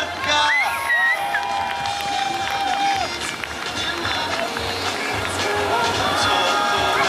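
A crowd at a freestyle championship in Kraków cheers and whoops for a performer, a dense continuous roar of voices and shouting with whistles, loud and close throughout.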